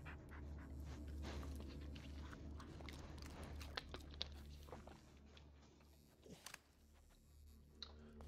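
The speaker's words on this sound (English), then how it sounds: "Gotta give the dog some snack" A dog in the Blair Witch video game eats a snack, with soft chewing and crunching plus panting over a low background hum, a few small clicks and footstep-like taps, fairly quiet and close.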